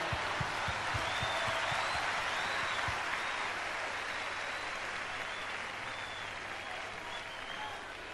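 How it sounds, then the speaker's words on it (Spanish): A concert crowd applauds the musicians at a show, sustained, dense clapping that fills the space and slowly fades, with a few whistles riding above it. "Quiero pedirles un aplauso para ellos también"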